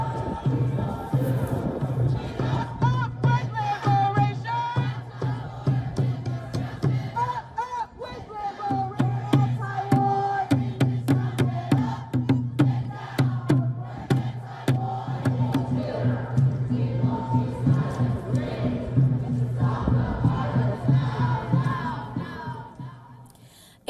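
Crowd of protesters at a demonstration on the NYU university campus in New York after dusk, a dense continuous roar of shouting and chanting voices with sharp bursts and cries throughout, loud and sustained until it fades at the end.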